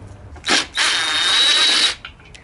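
Power drill backing a screw out of a Porter Cable air compressor near its manifold: a short whir, a brief pause, then a longer steady drilling burst of about a second, loud and close, with no talk.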